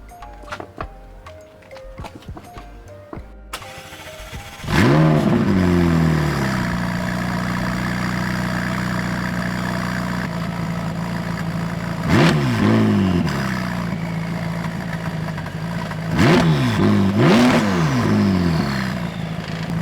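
McLaren 675LT MSO sports car engine cranks over with a few ticks, then fires into a loud, steady idle, followed by several sharp throttle blips that rise and fall, up close with no talking.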